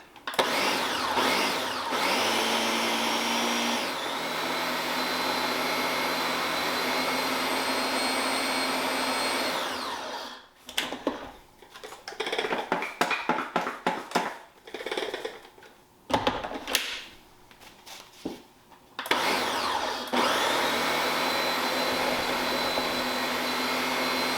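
An electric hand mixer beats butter and key lime pie ingredients, a loud, close motor whir that cuts into stuttering bursts of stop-start mixing in the middle before running steadily again.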